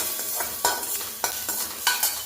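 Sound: chilies being stir-fried in a kadhai

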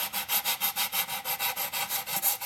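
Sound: sanding painted wood box

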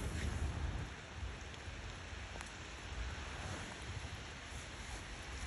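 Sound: rain falling

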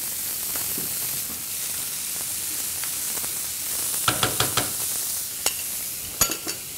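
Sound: butter sizzling in the pan with seared beef

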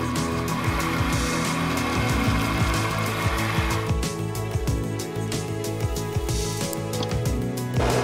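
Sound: milling machine drilling and tapping a wheel and arbor

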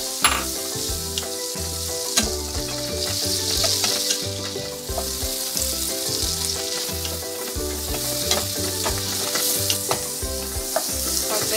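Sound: sautéing mushrooms in a pan

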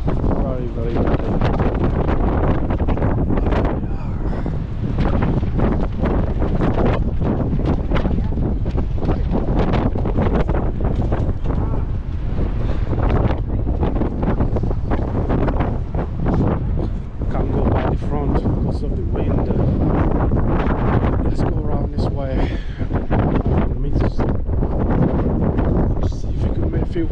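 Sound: strong wind blowing on the seafront

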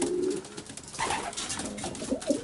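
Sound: racing pigeons cooing in a loft

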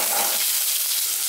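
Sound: frying chopped potatoes and spices in a pan

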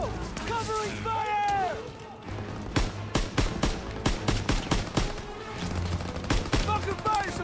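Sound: machine gun fire in Call of Duty WWII video game

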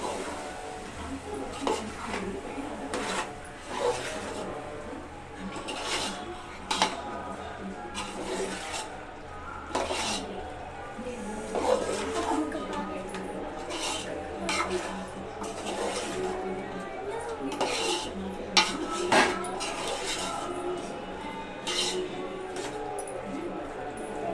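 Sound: stirring chicken masala into curry in a pot

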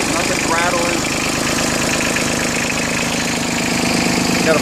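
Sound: Yanmar F155D compact tractor diesel engine idling

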